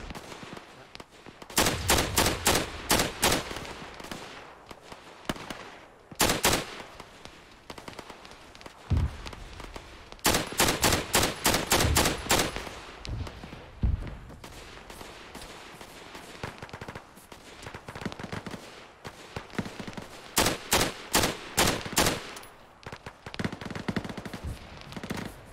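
Bursts of automatic machine gun fire from a captured enemy weapon in a tactical war video game, several rapid volleys loud and close, separated by short pauses with scattered distant shots between.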